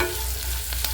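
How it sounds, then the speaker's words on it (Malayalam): Turmeric powder is stirred into a sizzling mixture in a pan while cooking potato bhaji, a steady frying hiss with soft scraping strokes of a spoon. "മഞ്ഞൾപ്പൊടി ചേർത്തിട്ട് നന്നായിട്ട് മിക്സ് ചെയ്തെടുക്കാം"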